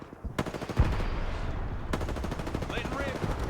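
Rapid automatic gunfire in a multiplayer shooter video game, a sustained loud burst of fast repeated shots with brief gaps, game effects and faint voice chat mixed underneath.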